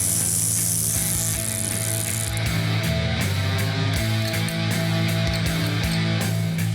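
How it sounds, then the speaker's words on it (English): A ratchet cranks down an axle nut while restoring a Super Bee, its clicking pawl running in quick rhythmic bursts, close and loud against a dense mechanical background with no talking. "So I'll put that on after I tighten this axle down."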